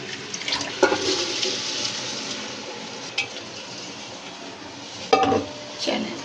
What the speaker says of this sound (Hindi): अब हम इसमें पानी ऐड कर देंगे।